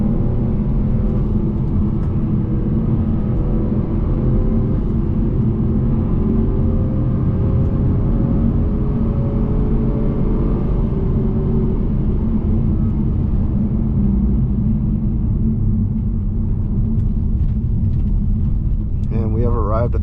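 A 2022 Acura TLX A-Spec's four-cylinder engine drones steadily and loudly from inside the car on a canyon drive along Angeles Crest Highway, with road rumble throughout and a voice talking over it.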